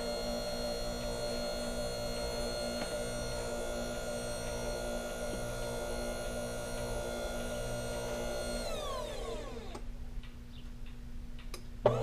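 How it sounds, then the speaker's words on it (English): A Philips electric pasta maker runs with a steady close motor hum and rhythmic ticking as it extrudes dough, then the motor winds down and stops near the end, leaving quiet with a small clunk. "now the machine is backing up because it wants to get the rest of the pasta all out of there"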